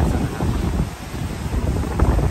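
Strong typhoon wind roaring against the microphone on the coast at Barroc, Tigbauan, with the wash of rough sea waves underneath, loud and continuous.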